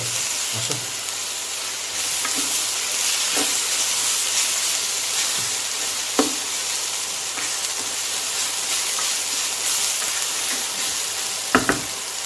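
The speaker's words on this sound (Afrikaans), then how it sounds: "Kook hom nou rustig verder of braai maar rustig totdat hy begin na 'n stroperige tekstuur kry." Onions frying gently with balsamic vinegar in a pan, a steady close sizzle and hiss running throughout with occasional soft clicks of stirring.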